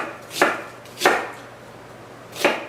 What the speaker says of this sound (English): Here's half of a red onion, and I'm going to cut that into small pieces as well.